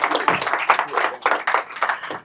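A small group claps together in rapid, uneven bursts, a short round of applause heard up close.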